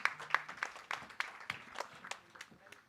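A conference audience at a tuberculosis session claps for an African Union speaker, the applause sparse and moderately close and thinning out toward the end.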